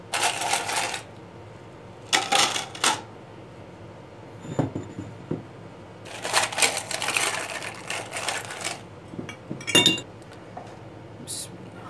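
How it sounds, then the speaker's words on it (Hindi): Ice cubes drop into glasses of aloo bukhara juice in several bright clinking bursts, some clustered rattles and single sharp clinks, close and fairly loud, with quieter handling noise between. "इसमें डालते हैं जी आइस।"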